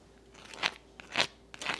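Three distinct crunchy bites into a homemade breakfast taco with a butter-crisped shell, each a sharp, close crackle spaced about half a second apart, with quiet pauses between and no talk.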